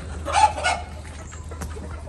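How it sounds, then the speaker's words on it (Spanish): A young rooster on a small ranch gives a short, nearby double cluck or squawk against a steady background hum, and a fainter call follows shortly after. "Miren este gallito."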